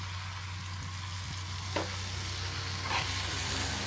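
Head-on, shell-on prawns dropped into a pan of okra curry, a steady sizzle with a few louder splashy bursts as they go in.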